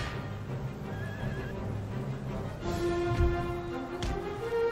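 Horses of the cavalry and Colonial Light Horse in a battle of Empire: Total War whinny amid a dense game soundscape, with a loud neigh near the middle and distant hoofbeats and battle noise throughout.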